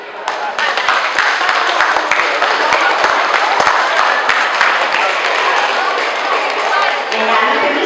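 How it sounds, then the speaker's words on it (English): Loud, dense applause from a large group of children at an elementary school family night, rapid overlapping claps sustained for several seconds at close range. "And now I want you to clap loudly."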